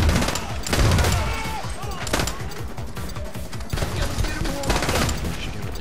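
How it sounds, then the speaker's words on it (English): Rapid, continuous video game gunfire rattles in dense overlapping bursts, loud and close, with game-style impacts and a faint voice mixed underneath. "Avoid those gunfire."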